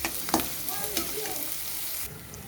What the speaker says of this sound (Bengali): মিডিয়াম আঁচে দিয়ে পেঁয়াজগুলো তোমাদের ভেজে নিতে হবে।